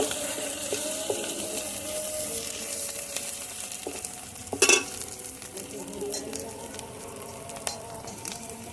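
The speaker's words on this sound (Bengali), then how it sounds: "পেঁয়াজের সঙ্গে রসুনটাও ভালোভাবে ভেজে নেব।" Crushed garlic fries with onions in a pan. A close, continuous sizzle is broken by stirring scrapes and a sharp clatter midway, with no voices.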